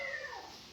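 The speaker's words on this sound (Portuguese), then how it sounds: "o meu gato tá miando a beça." A cat meows once at moderate volume, a short drawn-out call with a falling pitch, alone and fairly close.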